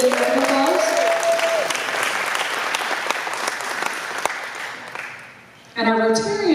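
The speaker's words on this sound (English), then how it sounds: "So let's give the Drift a big round of applause." A luncheon audience gives a sustained round of applause, a dense wash of clapping that dips briefly near the end before voices take over.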